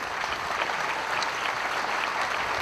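An audience at a ProRodeo Hall of Fame induction ceremony applauds, a dense, even wash of clapping from many hands held steady throughout at moderate loudness.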